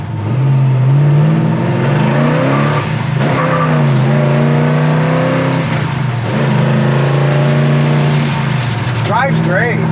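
A 1966 Chevelle SS V8 drones loudly from inside the car while driving at about 2,500 RPM. The engine holds a steady, rumbling tone, with pitch rising and falling slightly over the run.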